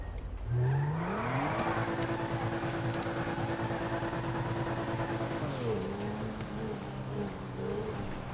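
A car engine in the GTA 5 video game runs and revs steadily, with a rising then level mechanical hum, while a convertible's roof opens. The engine drone masks the roof mechanism, and no voices are heard.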